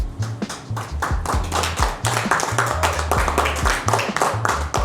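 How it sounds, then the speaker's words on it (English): Scattered hand claps from a few people, uneven and steady for several seconds, fairly close with some low thumping underneath. "Give an applause to yourself."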